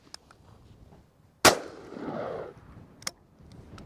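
A low-recoil shell fired from a home-defense shotgun gives one loud, sharp outdoor blast with a rumbling tail lasting about a second, and a lighter click or clack comes a moment later.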